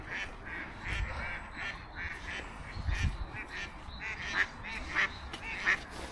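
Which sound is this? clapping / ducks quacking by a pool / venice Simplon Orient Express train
ducks quacking by a pool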